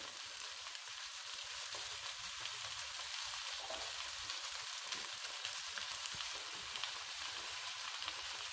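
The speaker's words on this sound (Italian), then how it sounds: "lasciamo cuocere le zucchine per 2 minuti" Zucchini slices fry in a pan with a steady, close, even sizzle and no talking.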